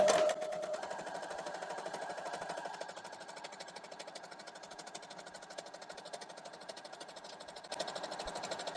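Sewing machine stitching two pieces of scrap fabric together for foundation paper piecing, a steady fast mechanical whir running continuously and close, with a brief louder start and a small lift near the end.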